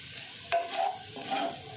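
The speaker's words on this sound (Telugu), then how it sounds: "ఇవన్నీ వేసి ఒకసారి కలుపుదాం." Spices stirred into a hot pan for spicy chicken fried rice, a steady sizzle with a few scraping stirs of a spoon against the pan.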